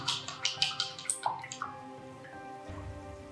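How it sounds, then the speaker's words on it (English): A paintbrush rinsed in a water cup while painting a llama-corn, giving a quick run of light drips, taps and splashes up close for about two seconds before fading to quiet. "So I'm gonna go ahead and rinse my brush again"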